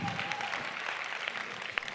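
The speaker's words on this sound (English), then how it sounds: "Clap it up for her" Applause from a seminar audience, a steady, fairly soft patter of many hands clapping throughout, heard from some distance with no clear breaks.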